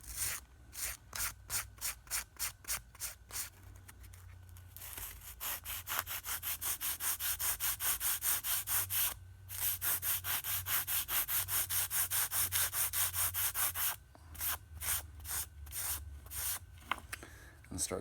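A homemade sanding stick rubs along the rough edges of craft foam armor pieces in quick, rhythmic back-and-forth strokes, in bursts and one long sustained run, close up with faint background noise.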